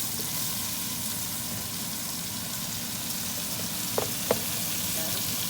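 Onions sautéing in a pan for pot roast after beef browning, a steady, even sizzle throughout with two brief knocks of a utensil near the end.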